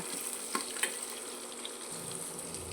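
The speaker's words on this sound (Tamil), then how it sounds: "இப்போ நல்லா வணக்கிக்கலாங்க" Vegetables for a village-style moong dal and beetroot kootu sizzling steadily in a pan, a continuous soft frying hiss broken by a few light clicks from stirring.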